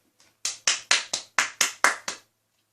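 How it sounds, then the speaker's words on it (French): A single person claps eight times in a steady, close, crisp rhythm, each clap sharp and distinct, with silence between and after. "On peut s'applaudir s'il vous plaît."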